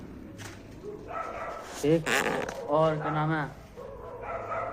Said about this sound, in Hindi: अभी कुत्ते कैसा भौंक रहे हैं